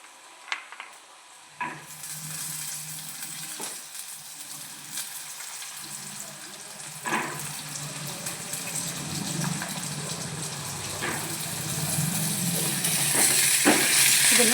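Green peas are tipped into a hot pan and stirred, bringing a steady sizzle and frying hiss that builds louder over time, with occasional scrapes and taps of a spoon against the pan.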